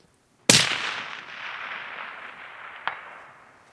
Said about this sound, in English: So finger on the trigger, pull back the rifle, place the thumb.